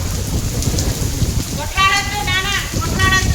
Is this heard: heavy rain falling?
yes